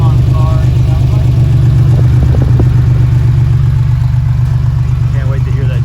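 An air-cooled Porsche 911 idles through a homebrew exhaust, a loud, close, steady low drone with a clattery mechanical edge that holds without pause.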